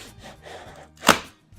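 A glued foam layer being pried off a model railway layout base, with scraping and creaking strain building to one sharp, loud crack or tear close by, then brief quiet.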